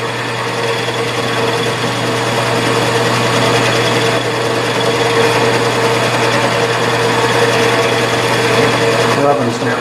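A reverse boring tool rubbing inside a workpiece on a milling machine, a loud, continuous whining drone with a steady hum and no clear breaks.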